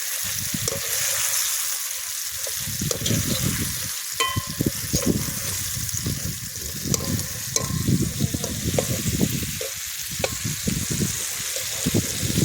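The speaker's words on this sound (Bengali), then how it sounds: "হালকা একটু ভেজে আবার তুলে নেবো। একবারে লাস্ট সব ভালো করে ভাজবো" Chicken coated in cornflour shallow-fries in hot oil in a village kitchen, a steady loud sizzle with bubbling bursts and occasional stirring clinks running throughout.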